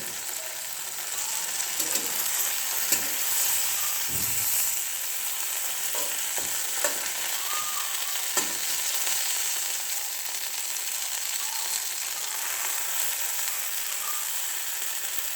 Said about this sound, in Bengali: দেখো টমেটোগুলো পাল্টে দিচ্ছি।